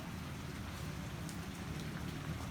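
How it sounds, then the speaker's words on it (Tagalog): Continuous heavy rain during flooding in Davao de Oro, Philippines, after three days of nonstop downpour, heard as a steady, fairly faint and even hiss with no pauses and no voices. "Nakakaranas tayo ng baha dahil sa walang tigil na pag-ulan"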